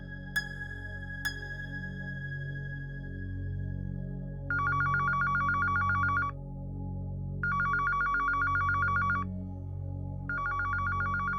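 A phone rings in repeated electronic trilling bursts with pauses between them, over a low background hum, after two sharp chime-like notes.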